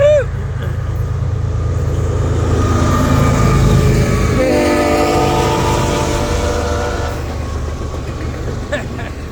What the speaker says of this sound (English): I love hearing the horn blast.